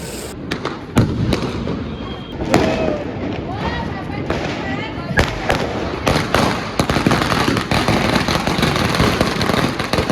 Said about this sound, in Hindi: तो गाइस देखो ये बड़ी वाली लूम फोड़ने वाले अभी।